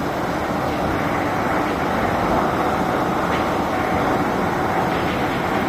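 An amusement park ride train climbing its track, a loud continuous rumbling roar with steady mechanical clatter, close and unbroken throughout.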